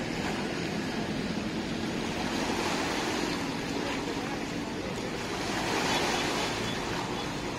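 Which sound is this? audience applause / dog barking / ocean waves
ocean waves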